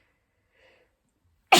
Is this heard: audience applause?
no